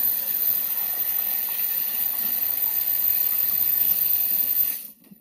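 Water runs steadily from a tap while a sponge is rinsed out, an even close splashing rush that stops abruptly near the end.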